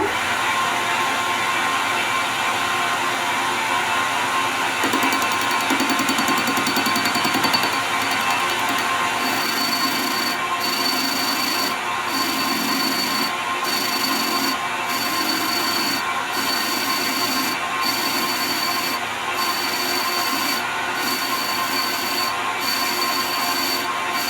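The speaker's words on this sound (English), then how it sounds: "Now I'm going to face this." Metal part being faced on a lathe, a steady loud grinding hum with a high cutting whine, broken by regular short interruptions in the second half as the tool passes, no talking.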